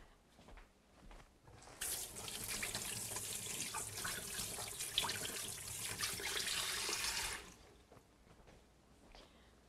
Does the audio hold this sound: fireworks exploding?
no